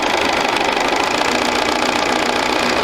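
A sewing machine stitching a quarter-inch seam on a quilt sampler block, starting at the corner, runs as a steady, loud, continuous mechanical whir for the whole stretch with no talk.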